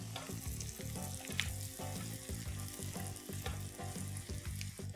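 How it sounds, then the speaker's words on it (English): Broken cashew nuts frying in a pan while a restaurant-style gravy is prepared, giving a steady, close sizzle with small crackles and occasional stirring taps throughout, no voices. "Time to add in some broken cashew nuts and allow these to fry a little as well."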